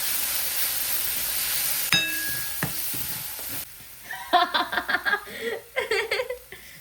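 Garlic, green chilies and curry leaves frying in oil start with a steady hiss, then a clink and a quieter stretch. Bursts of crackling spatter follow near the end, and faint voices sit in the background.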